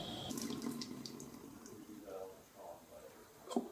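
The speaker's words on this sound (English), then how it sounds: "But we're going to dump the water anyway." Pork cooking water is dumped into a sink, a soft running splash and gurgle that fades in and out, with a brief clatter near the end.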